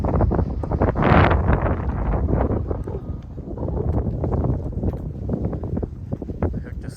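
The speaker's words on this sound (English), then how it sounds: "windy, very windy." Strong, gusty wind at a small airfield during a Cessna 150 trip, roaring steadily across the microphone with heavier buffeting near the start and no clear voices.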